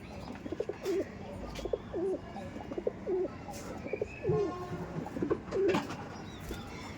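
Rampuri pigeons in a loft give soft, repeated rolling coos at a steady rhythm, fairly quiet and close, with a few faint chirps in the background.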